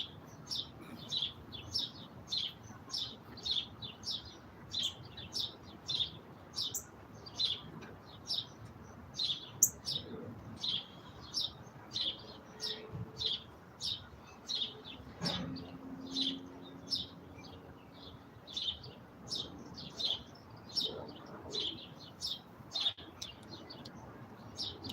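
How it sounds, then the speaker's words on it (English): Many birds chirp outdoors at feeding time, a continuous flock of quick, high tweets repeating throughout at moderate distance, with faint background noise. "They're almost always busy at this hour as well. It's like a feeding time for the birds."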